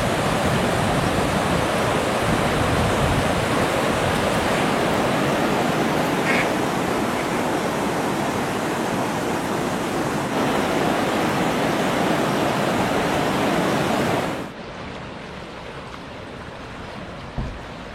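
Rushing water and waves roar loudly and steadily at the Fontaine de Vaucluse spring at the foot of a cliff, a continuous dense wash that drops slightly in level near the end.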